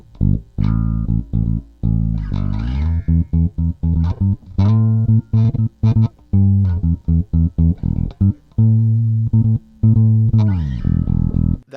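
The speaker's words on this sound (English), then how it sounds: "That's the sound of the bass with the old tube." A bass guitar runs through a tube distortion unit fitted with an old tube, playing a gritty, fuzzy line of sustained and choppy notes with audible noise, close and loud without talk.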